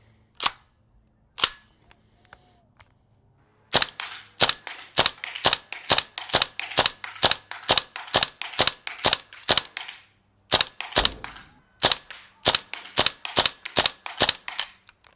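Gas-powered airsoft AK replica firing at a target: two isolated sharp cracks, then rapid rhythmic strings of loud, crisp pops in quick succession with brief pauses between bursts.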